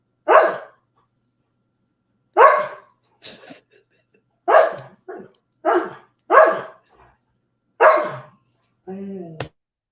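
A dog barks in single loud, sharp woofs spaced a second or two apart, about eight barks in all, close by with quiet gaps between them.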